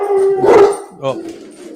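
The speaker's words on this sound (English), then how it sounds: "Sorry, the dogs are barking." Dogs at home howling and barking nearby, a loud drawn-out howl followed by a shorter yelping bark, with speech briefly mixed in.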